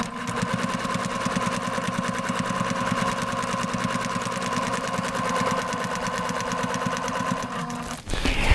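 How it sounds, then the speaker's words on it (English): A Baby Lock Accomplish sewing machine runs steadily at close range during free motion stitching on fabric, a continuous rapid mechanical whir and needle clatter that cuts off abruptly near the end. "I'm free motion stitching, I'm matching the speed that I'm moving the fabric to the speed that the machine is going"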